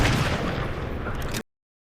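A gunshot in a war film, a dense loud burst of gunfire-like noise with rumbling low end lasting over a second before cutting off abruptly.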